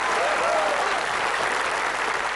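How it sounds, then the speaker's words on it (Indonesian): Studio audience applause fills the set of the Indonesian family game show Famili 100, a dense, even clapping that stays loud and continuous throughout, with no voices standing out above it. "Tepuk tangan untuk Mas Reza."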